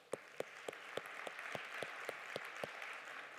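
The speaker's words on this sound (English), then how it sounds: "Let's give another round of applause for Jeff." Sparse applause at a TEDx talk event, about ten spaced claps standing out over a faint crowd wash, fairly distant and quiet.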